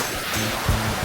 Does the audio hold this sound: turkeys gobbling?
no